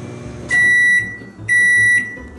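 A microwave oven hums steadily, and two loud, sustained beeps of about half a second each sound one second apart over the hum.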